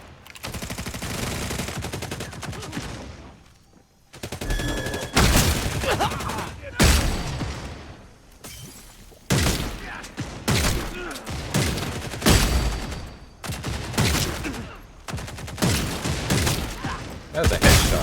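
Video game gunfire in rapid bursts and volleys, broken by short gaps of near-silence, with loud automatic strings and sharper single shots close up. A voice talks between some of the bursts.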